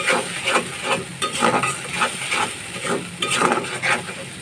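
A paste of onion, garlic, ginger and boiled cashew is being sautéed in a pan for egg korma, making a continuous sizzle broken by rhythmic scraping strokes of a spoon, close up and without speech.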